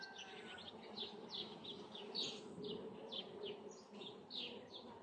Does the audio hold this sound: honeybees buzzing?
yes